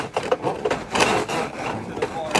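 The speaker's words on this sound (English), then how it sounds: "You can hear the debris going down the hose." Gutter guard flushed with a hose as loosened debris rattles and scrapes down through it, a close, continuous rough rushing sound with uneven pulses.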